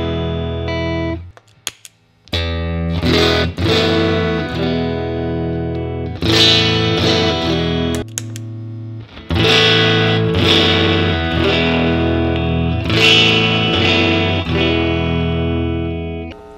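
An electric guitar played through a Warm Audio Warm Drive overdrive pedal rings out in distorted chords and sustained notes, loud and close, with short pauses between phrases.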